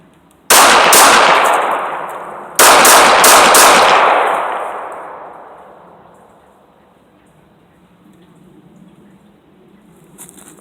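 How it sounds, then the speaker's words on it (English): Two loud, close bursts of rapid gunshots during defensive combat shooting practice, each a cluster of sharp cracks fired in quick succession, then a long echoing decay into quiet. "Just a couple of shots."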